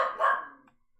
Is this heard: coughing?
no